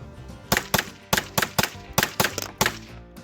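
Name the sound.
TNW ASR rifle firing rounds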